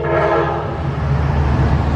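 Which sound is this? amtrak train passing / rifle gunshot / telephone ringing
amtrak train passing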